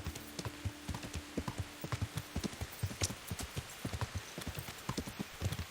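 A horse's hooves clip-clop in a steady trotting rhythm in the medieval video game Kingdom Come: Deliverance, the close, crisp beats running continuously with a brief tonal hum early on.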